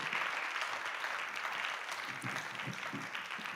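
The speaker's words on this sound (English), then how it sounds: "you can applause once again" Applause from an audience at a researchers' grand prix competition, a fairly faint, continuous patter of clapping that holds steady and thins slightly toward the end.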